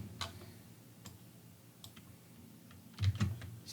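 Light typing on a computer keyboard while solving sudoku puzzles, scattered soft key clicks with a short quick burst of louder taps near the end, close by and alone.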